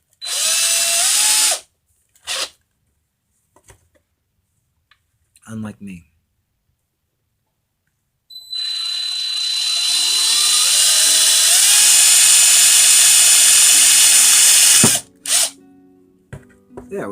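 A handheld power drill whines at high pitch as it bores a hole for a homemade laser ring, first in two short bursts, then in one long sustained run, close and loud, with brief talk between the bursts.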